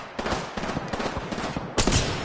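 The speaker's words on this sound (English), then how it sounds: "People shooting at you." Bursts of rapid gunfire from an Apex Legends match, a dense rattling volley that swells again near the end, heard alone without talk.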